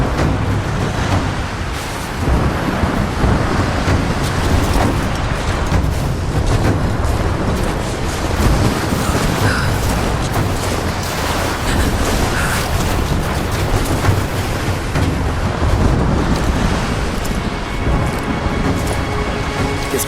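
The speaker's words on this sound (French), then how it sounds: "La tempête se rapproche." Loud, dense roar of storm wind in the Rise of the Tomb Raider video game, a continuous rumbling gale with low booming gusts that swells and surges steadily throughout, no speech.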